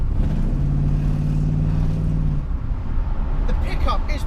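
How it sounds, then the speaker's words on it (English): A 1980 Chevrolet Camaro engine idles with a low, steady, rumbling burble for about two seconds, close and fairly loud, then gives way to a rougher, broader mechanical noise. "we're idling nicely around the corner, nice little burble"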